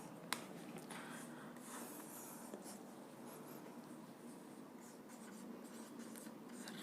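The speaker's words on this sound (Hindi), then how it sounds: "इसको मैं लिख देता हूँ।" Pen scratching steadily across paper while notes are written during a Class 9 physics lesson on rest and motion; a faint, continuous, close scribble with no talking.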